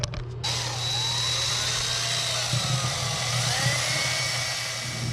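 A Harbor Freight buffer polishing a metal dash part of a 1972 VW Beetle with Blue Magic polish cream, a steady motor whine with a low hum running throughout, close and continuous.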